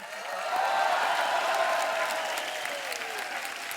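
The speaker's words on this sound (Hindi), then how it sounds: "लोग तालियां बजा रहे हैं" A studio audience at a comedy show applauds steadily for a few seconds, a dense and even patter of clapping.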